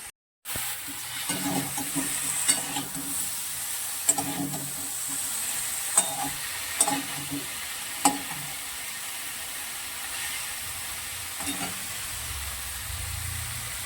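A cauliflower and potato curry cooks in a pan with panch phoron, giving an even, continuous sizzle and hiss broken by occasional light clinks and stirring knocks, close by, with no talking.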